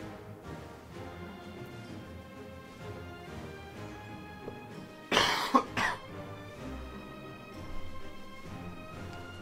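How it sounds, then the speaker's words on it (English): A single sharp cough bursts out in the middle over quiet background game music, followed by a smaller second cough or throat clear a moment later. "I had to cough."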